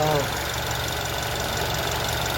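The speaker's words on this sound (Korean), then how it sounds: "엔진 룸도 뭐 지금 정상적인 소리밖에 안 나고요" A SsangYong Very New Tivoli 1.5 turbo engine idles close by in the open engine bay with a steady, even rumble and a faint rhythmic knock, continuous throughout.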